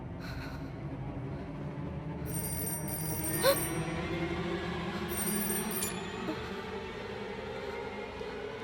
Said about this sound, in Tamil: ஃபோன் ரிங் ஆச்சு.